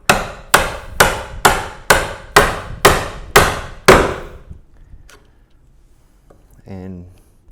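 A woodworking chisel struck with a mallet on a baseline while chopping, eight sharp evenly spaced knocks, close and loud, then quiet with a brief voice at the end.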